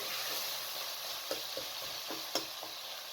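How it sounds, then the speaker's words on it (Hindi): Chicken fries in a tomato masala, the soft sizzle running steadily while a few light clicks of stirring break through it. "अब आपने चिकन को अच्छे तरीके से फ्राई कर लेना है।"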